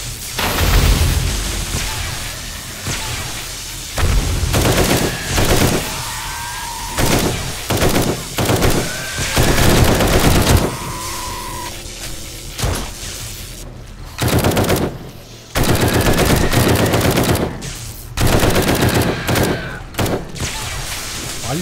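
Rapid machine gun bursts and single gunshots in a zombie survival video game, loud and close, coming in repeated volleys with short pauses and occasional booms, mixed with a player talking.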